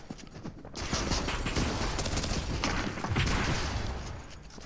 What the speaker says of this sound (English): another team started shooting at us, so I just decided to push. And I miss all my shots right here on this guy.